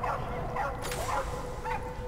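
A dog in the video game Die Young gives several short yipping barks and whimpers over a constant low background hum, moderately close.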